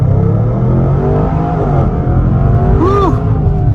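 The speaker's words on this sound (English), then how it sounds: "As soon as this light turns green, we can try an acceleration off the line" A 2022 Range Rover Sport Autobiography with a 5-liter supercharged V8 launching off the line from a green light, its engine roar loud and close as the pitch climbs through the revs.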